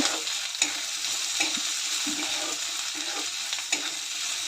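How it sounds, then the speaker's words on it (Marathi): Green chilli, garlic and peanuts sautéing in a hot pan, a constant bright hiss of oil with occasional spatula knocks and stirs, close up and steady, no voices. "त्यानंतर हिरवी मिरची, लसूण, शेंगदाणे सर्व घालून 2 मिनटं परतून घेते."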